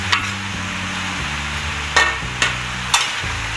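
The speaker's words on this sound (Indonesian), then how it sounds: "Terus kita aduk ya" Cabbage and mustard greens being stirred in a pan for fried noodles, a steady soft scraping and shuffling with a few sharp utensil knocks against the pan, close and without talk.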